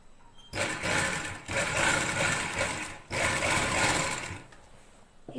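Sewing machine stitching piping onto a shirt, two loud continuous bursts of rapid whirring separated by a brief pause, close up with no talk.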